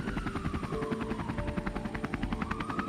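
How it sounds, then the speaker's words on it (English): A helicopter landing at an accident site, its rotor chopping in fast rhythmic pulses over a steady turbine whine, close and continuous throughout, with no talking. "The helicopter lands at the accident site."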